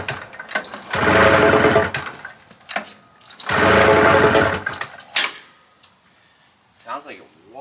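A 600cc Arctic Cat engine fitted with pod filters in a vintage Triple EEE buggy cranks and briefly catches twice, each burst a rough, buzzing roar lasting about a second, with pauses and talk in between.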